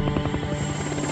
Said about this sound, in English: Within minutes, Coast Guard helicopters are sent out in search of the crash site.